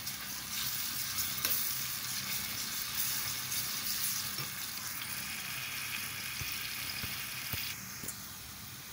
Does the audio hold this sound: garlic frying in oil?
yes